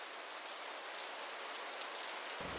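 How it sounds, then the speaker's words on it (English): Steady rain pours down in the video game Melon Playground, a dense, even hiss of falling drops with no talk over it, unbroken from start to end. "Why did it start raining?"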